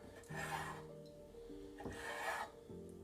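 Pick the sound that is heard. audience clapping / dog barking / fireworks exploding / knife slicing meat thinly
knife slicing meat thinly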